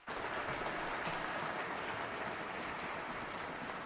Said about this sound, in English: let's give a round of applause to Mr. Layton and the Pell City High School Concert Band.